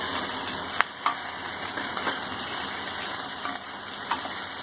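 Onions and chopped capsicum fry in a pan with a continuous close sizzle, punctuated by a few sharp clinks and scrapes of stirring.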